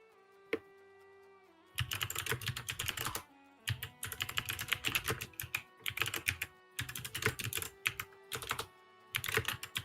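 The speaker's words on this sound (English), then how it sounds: "What are you typing?" Fast typing on a very mechanical computer keyboard, crisp clattering keystroke bursts in several close runs separated by short pauses, heard alone with a faint steady hum underneath.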